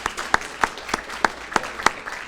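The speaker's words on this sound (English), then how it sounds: "let's give him a round of applause." At a Carroll County budget meeting, clapping comes as an evenly spaced series of crisp, distinct claps in a slow, regular rhythm rather than a dense roar.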